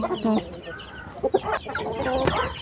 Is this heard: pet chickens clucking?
yes